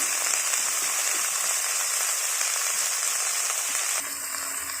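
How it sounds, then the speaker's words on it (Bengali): Snake gourd sautéing in hot oil makes a continuous, bright, close hiss like rain on a surface, dropping slightly in level just before the end, with no talking. "বেশ কিছুক্ষণ আমরা তেলে এটাকে সাঁতলে নিচ্ছি"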